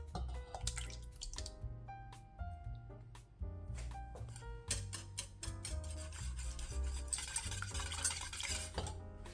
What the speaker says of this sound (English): Now that our coconut milk has cooled down, we're going to whisk in 6 eggs